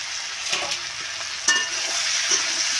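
A spoon stirs fried pumpkin, potatoes and fish roe in a hot pan, giving a steady sizzle with a few scraping clinks, close and alone.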